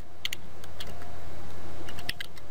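A computer keyboard typing a short CLI command on a Cisco ASA 5510 firewall setup, a few quick close clicks in two small bursts over a steady background hum.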